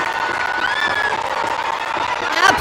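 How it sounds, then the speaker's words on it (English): A stadium crowd at a SAFF U-20 women's championship football match between Nepal and Bangladesh roars and cheers after a goal. The loud, sustained cheering includes whoops and whistles, with a commentator talking over it. "The crowd in jubilation."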